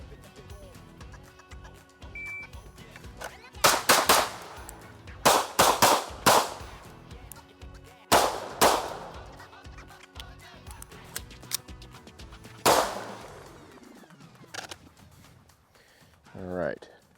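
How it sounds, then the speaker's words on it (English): A Kimber 2K11 Pro 4-inch pistol fires at close range in several sharp, loud bursts of shots with short gaps between strings, with someone talking quietly in between. "The pistol shoots really, really well."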